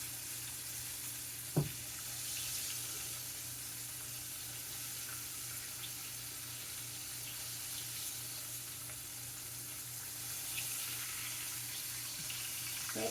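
Pork chops fry steadily in a skillet with a broad, continuous sizzle and crackle, one sharp knock of turning near the start and low hum underneath, no talking.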